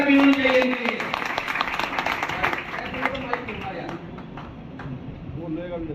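A seminar audience at an IMC business event breaks into applause, a burst of dense clapping that thins to scattered claps as a speaker's voice carries over it.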